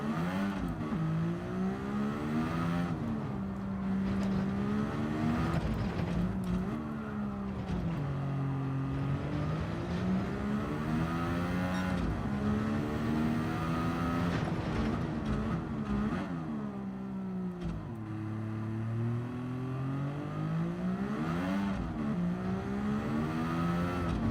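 A single-seater race car in a racing video game, somewhere between a McLaren MP4 and a Super Formula car, drones steadily with its engine pitch rising and falling through gear changes, loud and continuous with no talk.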